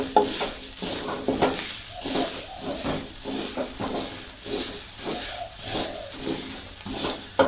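Nasi goreng with petai being stirred in a pan: a steady, close scraping and tossing rhythm over a constant hiss and sizzle of frying, with no talking.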